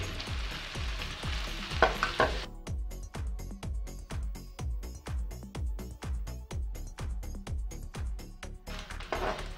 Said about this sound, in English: added little bit green chili, and fry well properly